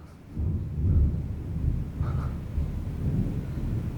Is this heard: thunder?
yes